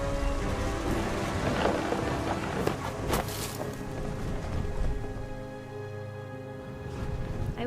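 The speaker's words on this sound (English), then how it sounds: "The thunder sounded much too close and full of angry power" A thunderstorm in What Remains of Edith Finch, with steady rain hiss and a few sharp thunder cracks early on, then rolling low rumble fading under continuous rainfall.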